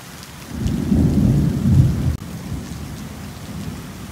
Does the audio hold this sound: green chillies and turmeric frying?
no